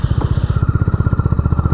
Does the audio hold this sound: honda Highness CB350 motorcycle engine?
yes